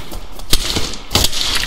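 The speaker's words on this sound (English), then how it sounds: "Ajax, we are taking accurate fire from the north." Incoming gunfire from the north in the military game Arma lands as a few sharp, close cracks spaced unevenly over a couple of seconds, with brief quiet between the shots.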